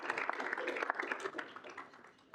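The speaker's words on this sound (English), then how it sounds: "So everyone give a round of applause for graduating SGA members" A room at a student senate meeting breaks into steady applause for graduating student government members, dense clapping from many hands that holds fairly even before thinning out near the end.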